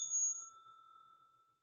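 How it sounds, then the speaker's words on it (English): A single quiet strike of a small bell serves as a trade alert, a clear metallic ding whose tone rings on and slowly fades over more than a second. "that bell's for you."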